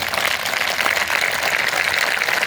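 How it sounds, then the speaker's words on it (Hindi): Loud, steady clapping from an audience at a Constitution Day celebration in Dehradun, dense and continuous throughout with no let-up and no voices standing out. "आप अपने सिर के ऊपर जोरदार ताली बजाइए हाथों से"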